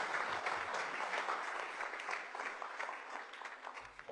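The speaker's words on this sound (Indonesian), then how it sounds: "Tepuk tangan" Studio audience applause on a live television talk show, a broad, even wash of many hands clapping that holds steady throughout, with a faint thump near the end.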